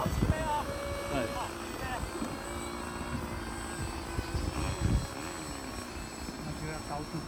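A V-22 Osprey model aircraft lifts off, its rotors whirring in a buzzing, steady drone that fluctuates as it climbs, with people talking over it.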